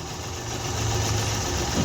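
A Suzuki Mehran engine idles steadily with a low, even rumble and vibration, fairly close and continuous, with no one talking over it.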